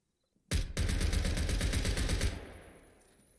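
A sustained, rapid burst of gunfire lasting about two seconds, including a sawed-off shotgun, rings loud and close in the tactical shooter Zero Hour: Kommando Delta, then tails off into a fading echo.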